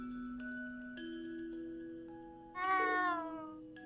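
Mr. Tiddles, a cat in the Trails of Cold Steel video game, gives a short clear meow near the end, rising out of soft sustained game music, close and fairly loud.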